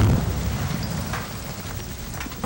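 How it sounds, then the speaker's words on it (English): Demolition blast bringing down 120-foot twin mill smokestacks, heard as a broad rumbling roar with crackling debris that stays loud and steady, then slowly fades. "Hours later, the 120-foot twin stacks came tumbling down."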